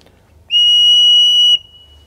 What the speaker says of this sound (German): Ich hole mal eine Pfeife heraus und puste hinein.